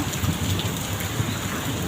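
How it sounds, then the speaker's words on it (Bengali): Heavy rain pours down steadily, a loud, dense hiss of drops with no pauses and no voices. "অনেক বৃষ্টি নামছে বন্ধুরা"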